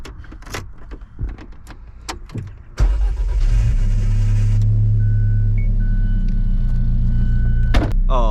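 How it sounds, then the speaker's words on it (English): Alfa Romeo 4C sports car: a few interior clicks and thumps, then the engine fires at about three seconds and settles into a loud, steady, rumbling idle close by, with a brief high tone and a final thunk near the end. "Now that we're in this Alfa Romeo and it started up, let's go for the drive."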